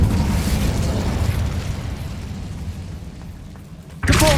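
A fire spell from the game Hogwarts Legacy produces a loud roaring whoosh and rumble that slowly fades. A sharp new burst cuts in near the end.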